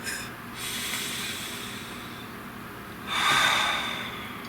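A deep breath drawn in and let out as a soft, airy rush, heard alone in a quiet room, with a longer, louder exhale swelling near the end.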